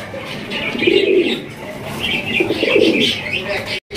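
Fancy satin pigeons, including a blue satin pair, coo in soft repeated throaty rolls close by, with a few faint chirps and a brief dropout near the end.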